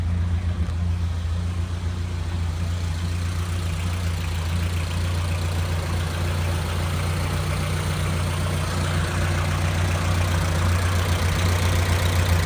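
A 1929 Ford Model A Phaeton engine idles steadily throughout, a low, even rumble with a constant pulse, close and fairly loud with no talking.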